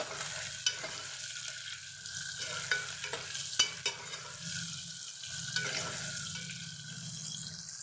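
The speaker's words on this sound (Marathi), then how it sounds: "कडीपत्ता टाकल्यानंतर लगेच आपण कांदा आणि हिरवी मिरची टाकून घेऊ छान असं याला परतवून घेऊ आपण" Onion and green chili sauté in oil with curry leaves for masala rice, a soft steady sizzle broken by repeated scraping stirs of a spoon in the pan, no talking.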